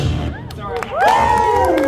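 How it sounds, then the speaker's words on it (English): A crowd at a tabletop game day event in Calgary cheers with rising whoops and shouts, growing louder partway through, with some clapping mixed in. "Give an enormous round of applause for Petra right there."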